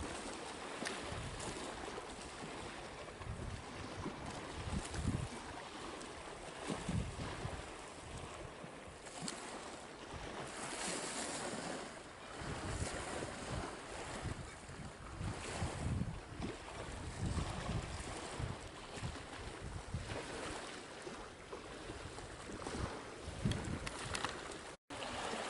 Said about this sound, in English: The tide is fairly well in. The sea, well, that's pretty calm really